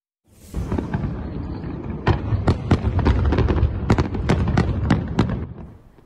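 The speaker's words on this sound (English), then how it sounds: "Macy's has been lighting up fireworks in New York for the past couple of days." A rapid series of Macy's fireworks bursts in New York, sharp cracks and booms layered over a continuous rumble of explosions, fairly close and loud throughout.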